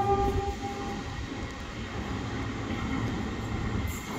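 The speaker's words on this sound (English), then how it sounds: "And here's my train, as well as the Gold Coast train going the opposite way." A train arriving at a station in Queensland rumbles steadily nearby with low rolling noise and faint tonal hums, continuous and fairly loud, with no voices.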